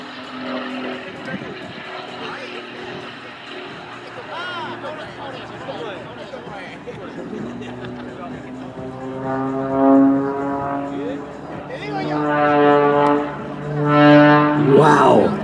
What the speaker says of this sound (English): Wow, listen to that propeller.